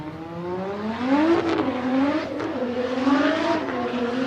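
The Reckless Racing BMW E92 drift car on Nexen tires at Formula Drift qualifying in Orlando, its engine revving and wailing with rising and falling pitch sweeps, loud and steady, heard at a distance with no commentary over it.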